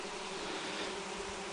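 Many bees buzz around a dense planting of flowering phacelia of the Melifera variety, a steady, faint, continuous hum with no talk over it.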